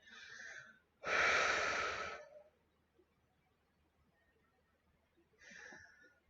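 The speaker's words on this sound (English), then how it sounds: "let's take a deep breath" A person takes a deep breath, one long drawn inhale near the start, with shorter, quieter breaths before and after, close and soft against a silent background.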